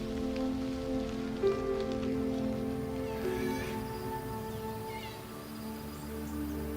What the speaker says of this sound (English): Still, it's not much fun being out in the rain.